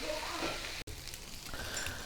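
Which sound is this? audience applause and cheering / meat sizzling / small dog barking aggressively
meat sizzling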